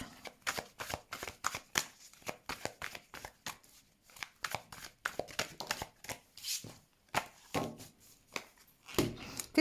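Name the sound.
shuffling tarot cards for a reading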